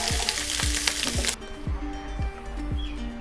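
Cubes of egg omelette frying in a pan give a steady, close sizzle, with a run of soft rhythmic knocks from stirring underneath, and the hiss drops off sharply partway through. No one speaks.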